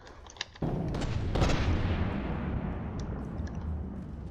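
Heavy 400mm HESH guns fire in a naval battle in From the Depths. A sharp boom opens a sustained rumbling barrage of distant detonations that slowly fades, with scattered faint pops on top.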